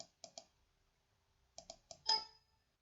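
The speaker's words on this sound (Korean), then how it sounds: "내가 여기서 더블 클릭을 한번 해보겠습니다." Sharp, quiet computer mouse clicks in a quiet room: a double click, then a pause, then another quick pair of clicks and a final slightly louder click-clatter.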